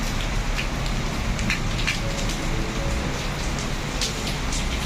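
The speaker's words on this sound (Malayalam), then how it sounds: "പെട്ടെന്ന് ടപ്പേന്ന് മഴ പെയ്തു. പക്ഷെ ഒരുവിധം നല്ല ശക്തിയിൽ തന്നെ പെയ്യുന്നുമുണ്ട്." Heavy rain falls suddenly and steadily, a dense, continuous hiss of drops on surfaces that stays loud and even throughout with no voices.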